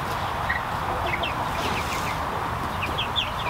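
Standard buff Orpington chickens clucking softly in a farm pen, a scatter of short, mid-distance clucks over a steady outdoor background hum.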